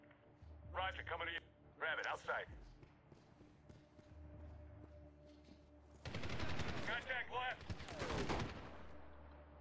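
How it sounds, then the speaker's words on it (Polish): Gunfire in the video game Medal of Honor, set in Afghanistan: short rapid bursts of shots at around one and two seconds, then a denser, louder stretch of firing, over a steady low game rumble with a voice talking throughout. "Skąd oni do mnie strzelają?"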